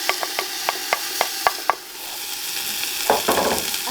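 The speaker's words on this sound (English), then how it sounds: "So I've got some onions and leeks cooking in butter here" Onions and leeks cooking in butter for an Anglo-Saxon bean and barley stew, with a steady sizzle under a row of evenly spaced sharp taps from a stirring utensil, then a louder scraping burst near the end.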